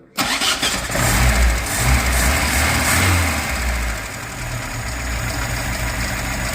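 A ZAZ car engine fitted with a Solex carburetor catches and settles into a steady, even idle, a loud close mechanical drone with a brief rise just after starting.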